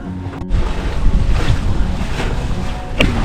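A sailboat under way in a channel makes a loud, continuous rush of water and wind buffeting against the hull and rigging, with a few soft knocks.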